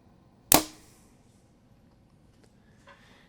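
A PSE Levitate 2022 compound bow looses an arrow with one sharp, loud snap at release and a brief ringing decay, followed by quieter faint handling noises.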